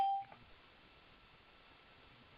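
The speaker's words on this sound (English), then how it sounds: "did somebody just beep in?" A short, clear electronic beep sounds at once as someone joins a phone call, then fades to faint line hiss.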